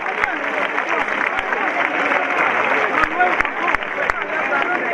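Steady audience applause for a very young performer at a regional organetto festival in Dorgali, Sardinia, a dense continuous patter of many hands with a few sharper claps standing out, sustained at even loudness throughout.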